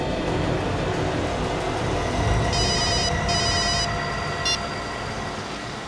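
A mobile phone rings in short repeated electronic bursts over a steady low rumble of traffic or a moving vehicle, with no talking.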